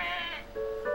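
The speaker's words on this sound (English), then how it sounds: "All these sheep." Sheep bleating in the video game Dog's Life: two short, clear wavering bleats one after the other, close and loud, with no talking.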